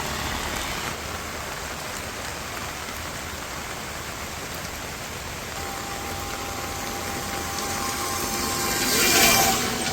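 Steady rain pours down across a village on a wet day, a continuous dense hiss with no pauses, swelling slightly louder near the end.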